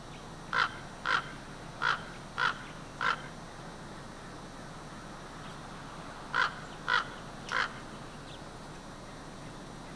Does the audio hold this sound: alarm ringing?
no